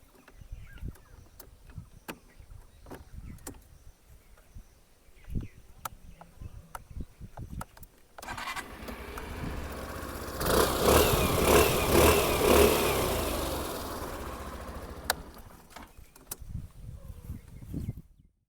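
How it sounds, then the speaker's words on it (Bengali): A 2026 Suzuki Burgman Street scooter sits quietly with faint clicks before its exhaust rises into a revving drone, swelling loudest mid-way, then falling back toward idle; no talk is heard. "চলুন এবার এক্সস্টের সাউন্ডটা আমি আপনাদেরকে শুনিয়ে দিচ্ছি"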